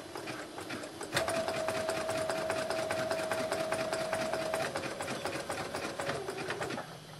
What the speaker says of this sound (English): Now I'm going to take this back to the sewing machine, and I'm going to stitch this area closed.